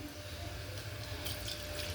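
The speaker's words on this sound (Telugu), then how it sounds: "ఒక హాఫ్ లీటర్ వాటర్ పోసుకున్నాము" About half a litre of water is poured into a cooking pot for chicken curry, a soft, steady splashing trickle heard faintly and alone.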